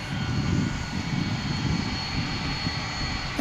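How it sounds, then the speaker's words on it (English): An MD-11 jet airliner taking off at DFW International Airport, producing a continuous, heavy low-frequency engine roar from a distance, steady and unbroken with no voices present. "An MD-11 taking off."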